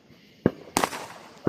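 A small fountain firework at a Fourth of July gathering goes off with a few sharp crackling bursts and a fizzing hiss, close by, with no talk over it.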